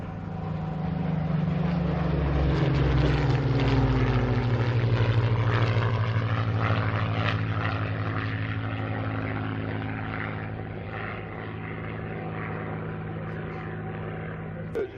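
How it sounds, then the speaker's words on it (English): A Sea Hurricane and a Spitfire, WWII propeller fighters, drone loudly overhead at an Old Warden race day air display as they fly in to land, a steady rumbling engine roar that slowly fades slightly. "here they come, indeed, the Sea Hurricane and the Spitfire from the right for their break to land"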